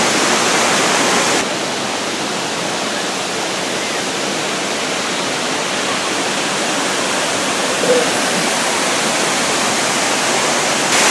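A waterfall near Arhavi heard from right at its base, a loud, dense, unbroken roar of falling water that holds steady throughout.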